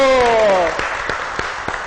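Audience clapping at a business talk as a guest walks to the front, starting beneath a trailing spoken voice and settling into sparse, scattered claps.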